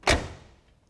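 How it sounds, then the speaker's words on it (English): A 1983 Oldsmobile Cutlass Calais Hurst car door shuts with a single solid, close thump, followed by a short fading resonance and no talk. "And again, door shuts real nice."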